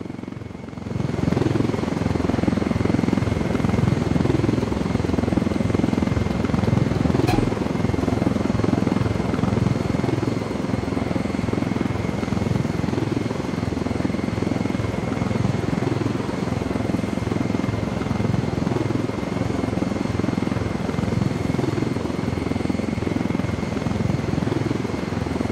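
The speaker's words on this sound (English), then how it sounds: "Another helicopter for the rebels." Helicopter in the Ghost Recon Wildlands video game, a loud, continuous rotor thump and engine roar holding steady up close for the whole stretch, with no talk over it.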